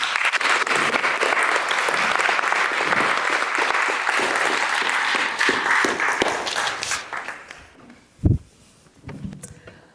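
Audience applause for a panel at a democracy discussion event, dense and sustained before tapering off into scattered claps, a thud and room noise near the end.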